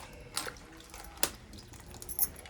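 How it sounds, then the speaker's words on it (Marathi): Cut brinjals being washed in water inside a home kitchen: faint splashes and a few sharp drips and clinks spaced irregularly, quiet overall. "आता वांगी 2 वेळा धुवून घेते."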